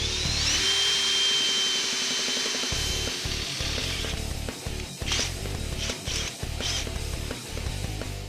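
Small bit drilling a pilot hole for a nerf bar install, a steady high whine from the power drill running for several seconds, with bursts and changes in pitch as the bit bites in toward the end.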